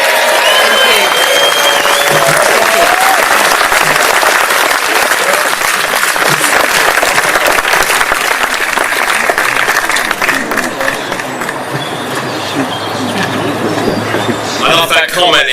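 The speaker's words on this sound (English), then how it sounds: "Give her another round of applause." Sustained applause from a crowd at a political rally for a newly elected Member of Parliament, a dense, steady roar of clapping that holds loud throughout and eases slightly toward the end.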